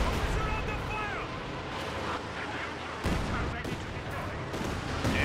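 Panzerwerfer rocket artillery barrage in the video game Company of Heroes 2: a dense rumble of rocket impacts and blasts, with sharp thuds near the end, while a voice talks over the battle.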